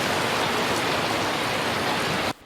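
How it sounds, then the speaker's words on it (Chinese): Heavy rain pours down hard and loud in Taiwan, a dense, steady roar of drops beating on surfaces that continues unbroken until it cuts off abruptly near the end. "雨落甲噼里啪啦真大声"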